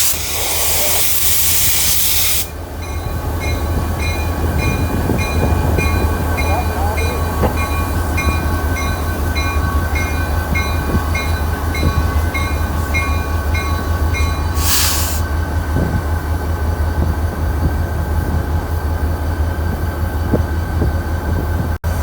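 A freight train locomotive rumbles steadily nearby with a constant engine drone and a loud hissing burst of air at the start and again midway.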